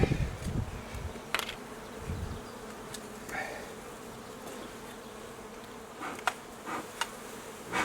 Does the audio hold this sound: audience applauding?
no